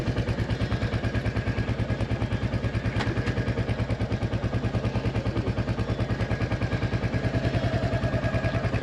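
Royal Enfield Hunter 350 motorcycle with a steady single-cylinder thump at close range, running evenly throughout with a faint clack partway through.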